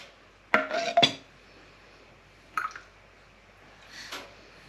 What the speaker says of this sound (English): I'll just put some soup in a bowl